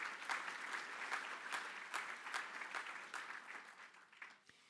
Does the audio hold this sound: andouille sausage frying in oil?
no